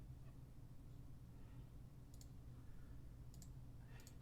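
Faint, sparse computer mouse clicks tick over a low hum during a walkthrough of the card game Legends Reborn, with a sharper, louder click at the very end.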